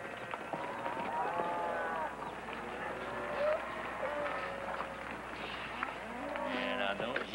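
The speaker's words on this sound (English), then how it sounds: "don't you tell me that all them cows belong to you, too" Cattle on a ranch low and moo repeatedly, several drawn-out calls rising and falling over a steady ambient background, with no talking.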